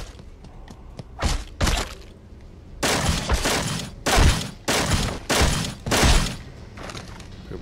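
Pistol fire in Fallout: Brotherhood of Steel, a series of loud sharp shots, some single and some in quick pairs, spread over several seconds with no talk.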